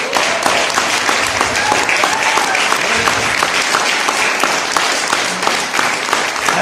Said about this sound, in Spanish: ¿Le puedes dar un aplauso a tu Dios?